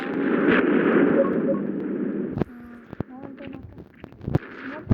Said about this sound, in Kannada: ಎಲ್ಲ ಬ್ಲಾಸ್ಟ್ ಆಗ್ಬಿಡಬೇಕು